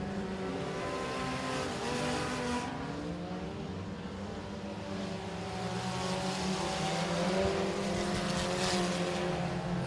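Front-wheel-drive four-cylinder race cars roar steadily around a dirt oval at Boothill Speedway during a heat race, engines droning and overlapping continuously with shifting pitch, loud and sustained throughout.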